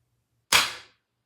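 A single sharp shot from an Avenge-X PCP air rifle fired at a target, a close crisp crack that decays quickly into silence.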